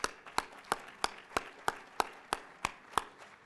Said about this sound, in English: So please give Kim a big round of applause